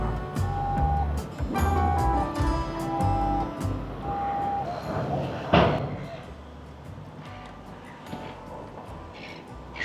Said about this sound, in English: Trucks are unloading